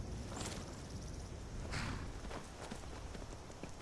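Hooves clip-clop steadily on the ground as a horse walks in Skyrim, over a dense wash of in-game ambience and music, moderately distant and even in rhythm.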